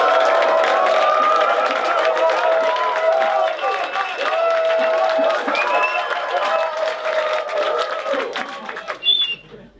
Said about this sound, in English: Cheer as loud as you can right now.